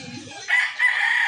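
A white-legged sweater rooster crows once, near and clear, with some soft clucking or low rustling just before it and no talk.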